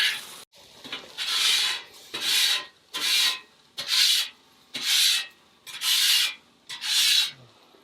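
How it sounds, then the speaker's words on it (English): Seven or eight rhythmic raspy strokes of a spatula scraping across a charcoal grill griddle, close and fairly loud, with short pauses between each pass and no voices. "All we want to do is just take a spatula or something and scrape it."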